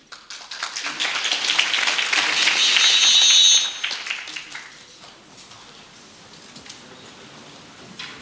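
A conference hall audience applauds to welcome a professor to the stage at an international Islamic human resources management conference, a dense burst of clapping that swells for about three seconds, then fades into scattered claps and room noise.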